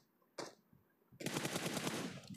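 Gunfire in the mobile game PUBG Mobile: a brief single burst, a short pause, then a rapid automatic spray of shots fired in quick succession, loud and clear against a quiet background.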